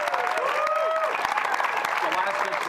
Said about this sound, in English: And I think that deserves a round of applause.